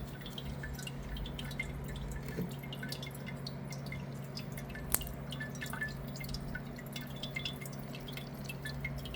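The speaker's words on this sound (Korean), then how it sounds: "그 1리터 물을 지금 다 써서 지금 쭉 빠져나오고 있습니다." Water draining through the soil of a potted geranium after watering, faint steady dripping and trickling with a low constant hum beneath and one sharp tick midway, quiet and without speech.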